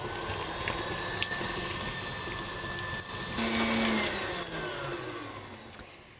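An electric mixer beating butter for buttercream frosting on high speed, a continuous loud motor whir with rattling and slight pitch shifts as the bowl turns.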